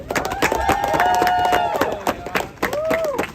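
A protest rally crowd in Manhattan applauds and cheers itself, a dense sustained wash of clapping and shouting with whistles and raised voices mixed in, fading slightly toward the end.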